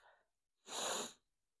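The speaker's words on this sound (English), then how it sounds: "forgive my sniffling" A single sharp, loud sniff from a person with a flare-up of an autoimmune condition, sitting alone at a crafting table, brief and close after a faint breath and a moment of quiet.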